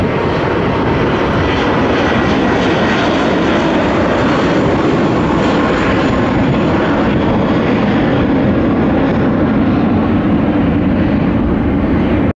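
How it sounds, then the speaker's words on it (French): Steady, loud, broadband roar of jet aircraft close by at an airport, a continuous engine rumble and hiss that fills the whole stretch with no talk. "derrière cette grille là, il n'y a que des avions, des jets"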